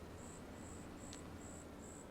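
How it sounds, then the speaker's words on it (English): Crickets in the Farming Simulator 25 video game chirp in five evenly spaced high trills over a steady soft hiss of ambient background, with no speech. "The crickets in this game are actually so annoying."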